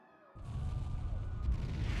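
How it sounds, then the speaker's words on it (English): Cannon fire in a Ys X: Nordics JRPG cutscene breaks out after a brief silence as a deep, rumbling boom, then a sustained roar of heavy blasts. "Sounds like screaming. And cannon fire."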